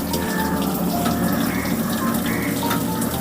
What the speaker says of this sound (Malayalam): ഇതിനകത്തിപ്പം വെള്ളം വന്ന് നിറഞ്ഞുകൊണ്ടിരിക്കുക